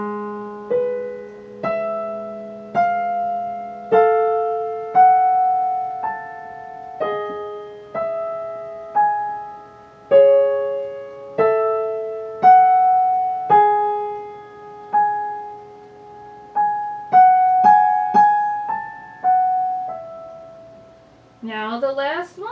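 Solo piano plays the slow Adagio sostenuto theme from Rachmaninov's Piano Concerto No. 2. A clear, close single-note melody of evenly spaced notes rings out and decays, ending with a short ornamented flourish.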